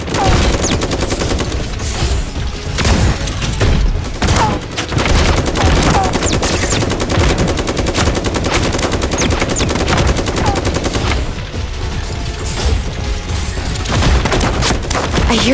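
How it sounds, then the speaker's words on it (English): Sustained automatic gunfire in the Super Mecha Champions video game, with dense rapid bursts and booms that run almost without pause, loud and up close. "I hear gunfire."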